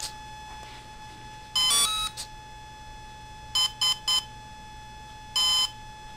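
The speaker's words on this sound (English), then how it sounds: "it had a little song, then it had three beeps, then a single beep" A Volcano electronic speed controller plays a short melodic startup burst when its battery is plugged in, then three quick beeps and a final single beep, clear and close over a quiet electrical hum.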